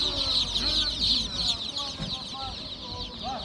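Chickens cluck repeatedly at a busy poultry market in Taşköprü, Kastamonu, with several birds calling close by over a background of crowd bustle and distant voices.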